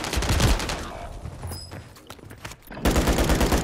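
Automatic gunfire in Call of Duty, loud rapid bursts up close that thin out in the middle and then return at full strength, with a voice faintly under the shots.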